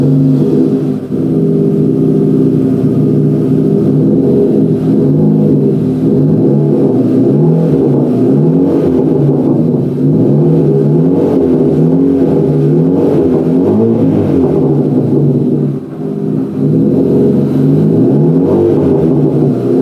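A Ford Fiesta Mk6 race car engine, running with no exhaust fitted, revs loudly and continuously for about twenty seconds, its raw mid-range drone rising and falling in steady waves with no talking over it.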